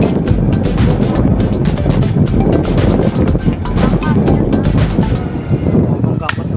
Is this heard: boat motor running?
yes